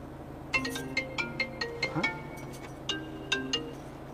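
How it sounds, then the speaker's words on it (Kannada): A phone ringtone chimes nearby in a melodic pattern of short bright notes, repeating in two bursts with a brief pause between, fairly quiet and with no one speaking. "ಫೋನ್ ಬರತ್ ನೋಡೀಗ."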